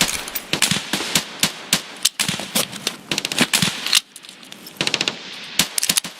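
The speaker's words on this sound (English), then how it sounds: "Loading up ammo into spent mags." Rounds clicked one by one into spent magazines in Escape from Tarkov, a rapid run of sharp metallic snaps and clacks in quick bursts, fairly close, with a short pause partway through and no talk.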